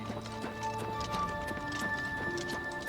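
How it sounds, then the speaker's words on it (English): Horse hooves clip-clop steadily in The Elder Scrolls IV: Oblivion, a quiet, even trotting rhythm over game ambience and faint musical tones. "Come on, horse."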